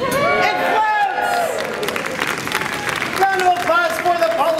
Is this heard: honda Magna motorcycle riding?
no